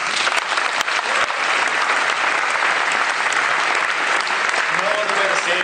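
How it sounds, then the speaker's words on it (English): A large audience gives a sustained round of applause, dense and even clapping that fills the whole stretch at a loud, constant level, with faint crowd murmur underneath. "I think that deserves a huge round of applause"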